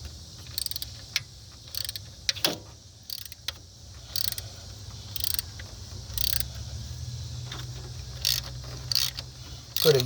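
A ratchet clicks in short bursts while turning a long, tight alternator bolt on a Jeep Liberty Sport, sharp metallic ticks in uneven clusters over a quiet background hum.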